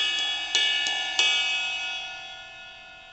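A Sabian AAX cymbal with a small bell is struck several times in quick succession, each bright metallic ping ringing on with sustained shimmering overtones that slowly decay, close and alone.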